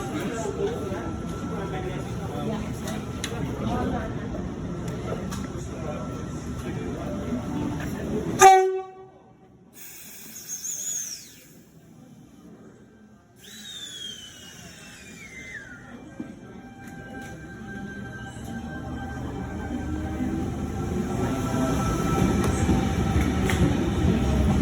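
A train passes through a station. A loud rumbling approach ends in a sharp horn blast, then comes a brief lull with squealing, sliding wheel tones, and the rolling noise builds again steadily toward the end.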